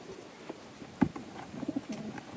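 A breeder pigeon cock cooing softly, a few low throaty coos with a louder burst near the middle and quieter rolling calls after, close by against light background noise.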